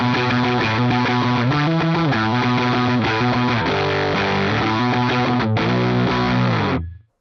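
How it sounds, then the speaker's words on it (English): Electric guitar through the Archetype: Plini X plugin in fuzz mode with controls at noon, playing a thick, saturated riff of shifting chords, loud and continuous, then stopping abruptly near the end. "Now I'm going to engage fuzz mode"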